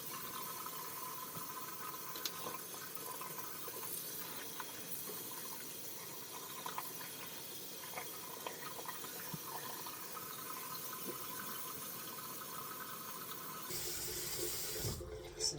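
Water runs steadily from a bathroom tap into a sink as it warms up for washing, a continuous close hiss with a brief change in flow near the end.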